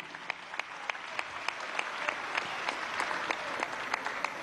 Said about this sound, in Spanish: Aquí vamos a darle un aplauso, ¿vale?